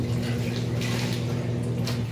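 Water sloshing and splashing from hand-washing laundry in a basin or tub, a steady close wet churn with a low hum underneath and no talk.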